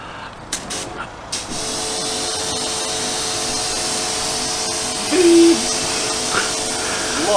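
Water rinses foam off a car during professional detailing: a steady, close hiss of spray with a faint mechanical hum underneath, briefly swelling louder partway through.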